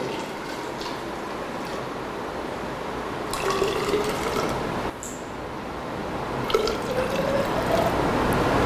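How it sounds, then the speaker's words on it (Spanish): Water is poured into a graduated cylinder during a physics lab volume measurement, in two separate pours whose pitch rises as the cylinder fills, with drips in between and no speech. "nosotros le echamos agua a la probeta a un volumen conocido"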